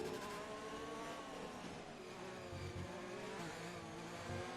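A Ferrari Formula 1 car in the F1 2020 racing game roars past with a sustained, buzzing high-revving engine drone that shifts pitch slightly as it drives through into braking, with no talk over it.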